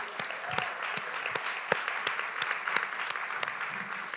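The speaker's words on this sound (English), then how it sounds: "Let's give them a round of applause for that." A smaller audience claps at a community event in Newark, fairly close and somewhat sparse, with distinct individual hand claps over a steady bed of applause.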